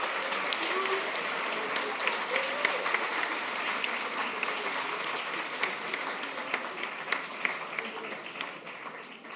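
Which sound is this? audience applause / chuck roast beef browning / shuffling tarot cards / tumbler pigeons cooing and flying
audience applause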